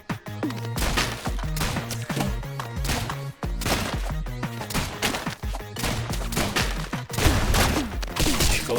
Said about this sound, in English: You shoot so much at me.